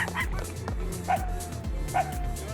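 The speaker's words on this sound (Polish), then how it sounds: "Ale słodkie szczeniaczki." Dalmatian puppies in a cartoon give high, repeated yips and whimpering barks, close and lively, in quick bursts over a steady low background.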